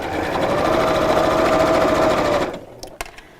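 A sewing machine runs continuously, stitching fabric flat in a steady close mechanical whir that stops abruptly, followed by a few small clicks.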